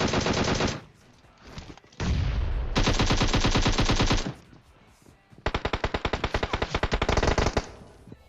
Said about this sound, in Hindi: यहां पे मैं गोलियां बर्बाद कर रहा हूं